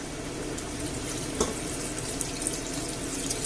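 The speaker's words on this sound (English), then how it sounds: "I'll add the half a litre of water, cover it up and just leave it there boiling" Half a litre of water is poured into a pan of pork for a Spanish home-cooked dish, giving a steady, moderately loud rushing splash that runs unbroken for several seconds. A faint clink sounds near the middle.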